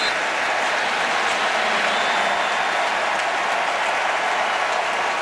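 A stadium crowd in Indianapolis applauds during a Seahawks–Colts football game, a dense, steady wash of clapping and cheering that holds at even loudness from start to finish.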